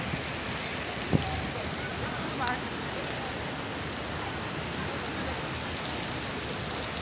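Steady rain falling in the open courtyard of Masjid Nabawi in Madinah, a constant broadband hiss throughout with a single brief knock partway through.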